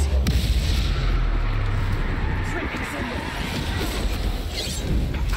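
Blasting-spell explosions from the Hogwarts Legacy video game, dull booms and crackles over dense combat noise, with a player talking throughout.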